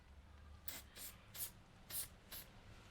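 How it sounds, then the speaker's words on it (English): Five short bursts of copper grease aerosol spray, each a quick hiss, spaced roughly half a second apart, close by with a low background hum. "bit of spray on copper grease"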